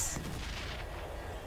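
A heavy boom from an explosion in the video game Battlefield: Bad Company, loud at the start and rolling into a sustained rumbling tail.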